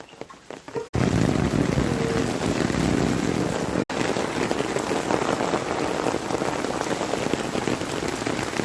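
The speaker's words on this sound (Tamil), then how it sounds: "இன்னும் ஸ்பீடில் மழை பெய்யுது." Heavy night rain pours steadily in Chennai, a dense, loud, unbroken hiss of drops on surfaces. It starts abruptly after a quiet moment and continues with one brief dropout.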